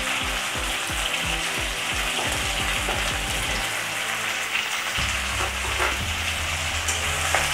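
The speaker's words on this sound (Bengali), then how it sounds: "আমার ভাজা হচ্ছে।" Soybean chunks fry in a pan with a steady sizzle while a spoon stirs them, scraping in uneven rhythmic strokes, close and clear.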